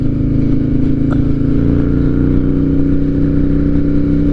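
A Harley-Davidson Night Train motorcycle with new spark plugs and a tuner rides along a road, its loud, close, steady engine drone rumbling low and continuous throughout, no talk heard.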